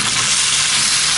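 Bell peppers cook over an outdoor brazier, giving a dense, even hiss of loud, continuous sizzling with no pauses and no one talking.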